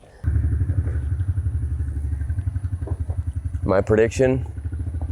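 A cheap Amazon dirt bike engine at launch gives a steady, close, chugging thump that stays even throughout, with someone briefly speaking over it near the end.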